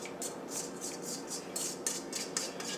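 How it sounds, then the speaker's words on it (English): A spatula scrapes pecan pie filling out of a bowl in a quick series of bright, rhythmic scraping strokes, about ten in a row, up close over a faint steady background with no talking. "And then I'm going to scrape the bowl."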